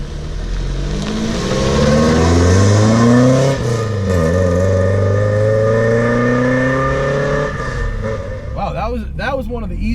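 A 1974 Alfa Romeo GTV 2000 driving on the road, its engine loud and close as it revs and pulls through rising and falling pitch sweeps, with a voice speaking over it near the end.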